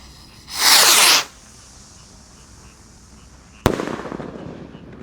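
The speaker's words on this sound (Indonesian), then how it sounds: "di sini ada Gold Dragon Rocket Roman Candle guys. Kita lihat reaksinya. Sudah menyala. Siap meluncur." A Gold Dragon Rocket Roman Candle firework lets out a loud hissing whoosh for about a second, then after a pause a sharp bang cracks out and decays into a rustling fizz, outdoors on a Ramadan night.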